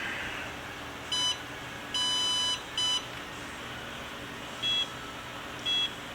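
A Promatic receiver emits a series of sharp electronic beeps while booting up, in short bursts and one longer tone spread across a few seconds, clear over a faint background hiss.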